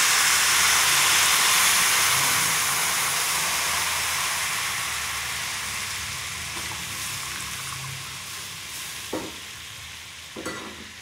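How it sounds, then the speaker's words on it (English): Chili powder, turmeric and tamarind sizzle steadily in hot oil for a spice paste for star gooseberry pickle, a broad hiss that fades gradually, with two sharp spoon clicks near the end and no talking. "Cook this mixture for about 1 minute in oil."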